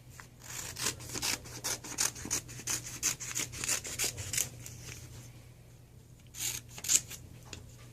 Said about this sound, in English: I cut my extras because I like cutting them small so I can fit them in my binder